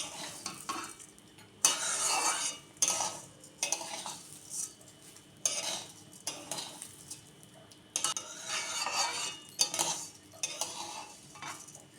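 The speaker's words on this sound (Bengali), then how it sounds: "চালটা খুব ভালো করে ভাজতে হবে, তাহলে গিয়ে পোলাওটা ঝরঝরে হবে" Bursts of dry scraping and rattling as raw rice for pulao is stirred around a pan, with faint sizzling and occasional utensil clinks between the strokes.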